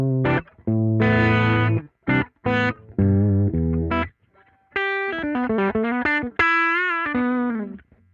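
Electric guitar played through an amp emulation in the Band-in-a-Box plugin, set on the edge of distortion: chordal phrases then single-note melodic lines, loud and close, with gaps between phrases and a chorus-like effect tone.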